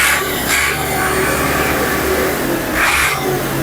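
An ATS 290 tractor engine runs loud and close, with a steady low rumble that swells twice in brief revs, alone with no voices.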